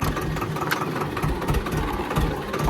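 A farm tractor engine runs steadily at a mid-pitched idle-like drone, close and continuous with a faint knocking texture, no talk over it.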